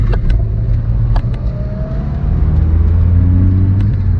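A 1.4-litre Audi A2 pulls away on a test drive, its engine rumbling low and steady from inside the cabin as it accelerates, with a few light clicks and rattles over the drone.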